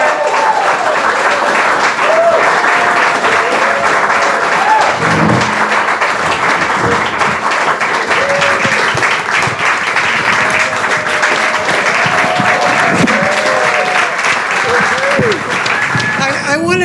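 An awards-ceremony audience applauds honorees at the Clara Lemlich Awards, sustained dense clapping from a large crowd filling the room, with voices and occasional cheers mixed in throughout.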